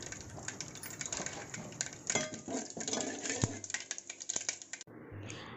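Cumin and mustard seeds spluttering in hot oil, a dense crackle of sharp pops and sizzles that continues steadily, with metal utensil clinks, then cuts to a softer sizzle near the end.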